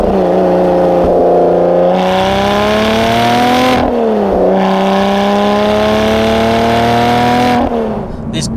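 A Lotus Evora GT410 Sport engine revs hard through the gears, loud and close, rising in pitch, dropping at each upshift, then climbing again before easing off at the end.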